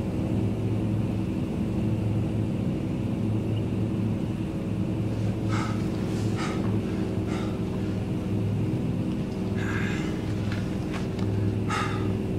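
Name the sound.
airplane flying in a film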